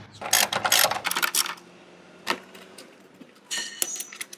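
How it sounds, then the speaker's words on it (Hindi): Bolts being unscrewed on a Hero Honda CD100 motorcycle: close, bright bursts of metallic ratcheting and clicking from a wrench, with short pauses between them and no talking. "आपको सिर्फ ये एक बोल्ट और दूसरा ये 2 बोल्ट्स खोलने हैं"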